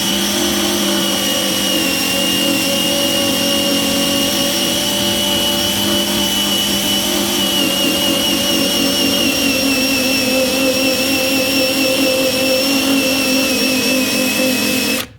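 A power tool runs steadily at high RPM, stripping a stubborn decal from a car's clear-coated paint. The whine stays loud and continuous throughout, with layered tonal hums over a gritty buzz and no talking.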